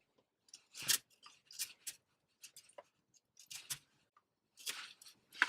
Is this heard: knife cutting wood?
yes